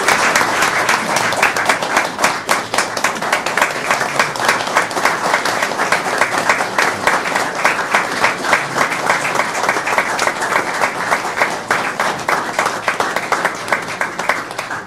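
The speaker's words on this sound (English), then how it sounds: "Will you please give him a round of applause?" Audience at a Bradley County school board meeting applauding Officer Hickson, a sustained dense round of clapping from a roomful of people, loud and steady for the whole stretch.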